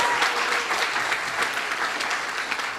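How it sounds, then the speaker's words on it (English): Graduates at a certificate ceremony applaud themselves, a dense, continuous roar of many hands clapping, loud and steady with no talking over it. "Give yourselves a round of applause"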